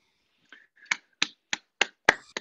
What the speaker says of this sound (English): You have to multiply this clapping of hands by more than a factor 100.